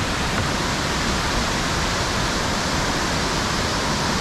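Water pours steadily into the Juniata River in Pennsylvania, a loud, continuous broadband rush like a small waterfall heard up close, with no pauses.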